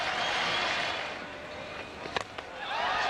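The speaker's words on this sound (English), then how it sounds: "And the crowd love it." A cricket crowd at a T10 match between New Zealand and a World XI cheers after a six, a broad, moderately distant roar with scattered whistles and a few sharp pops standing out.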